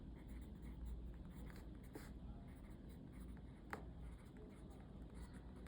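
Pen or pencil writing numbers by hand on paper, a soft continuous scratching close by and fairly quiet, with a couple of brief taps and light background noise.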